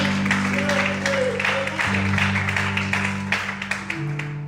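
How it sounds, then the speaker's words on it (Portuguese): A church congregation claps in praise during a Christmas sermon, a steady patter of many hands over sustained keyboard chords, with a voice speaking over it. "Você pode aplaudir e exaltar a Deus com alegria, aleluia!"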